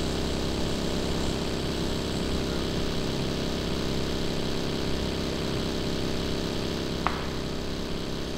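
A video-game buggy's engine drones steadily throughout, a constant mid-pitched motor hum with no speech, broken only by one brief click near the end.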